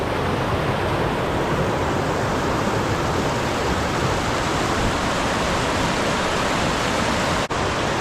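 Dutchman Falls on Loyalsock Creek pours in a broad, loud, unbroken roar of falling water, close and constant, with no voices over it.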